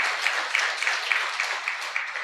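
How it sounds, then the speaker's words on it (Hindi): A church congregation applauds during a Hindi sermon, a dense steady patter of many hands clapping close by for the whole stretch, with no voice over it. "यीशु के लिए बजा दीजिए ताली।"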